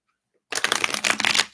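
Cards are shuffled for a tarot-style reading: a crisp, continuous riffling burst of papery flutter lasting about a second, close and fairly loud, after a brief silent lead-in.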